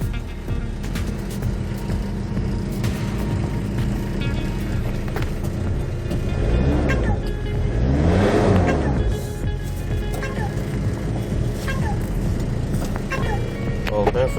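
Engine of a 2004 Hyundai Porter diesel truck with manual transmission while driving: a steady, close engine drone with a swelling rise mid-way, under talk.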